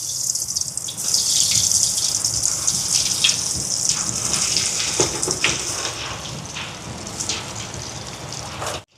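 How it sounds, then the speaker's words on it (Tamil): Cutlets deep-frying in hot oil in a Sri Lankan home kitchen give a loud, bright, continuous sizzling hiss with scattered pops, easing slightly over time before cutting off, with no talk. "எண்ணெய் சூடாயிட்டு கட்லெட்டை பொரிச்சு எடுப்போம்"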